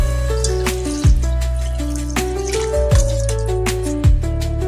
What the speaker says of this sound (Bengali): তো এখানে মাছের মধ্যে এখন একটু জল দিয়ে নিচ্ছি।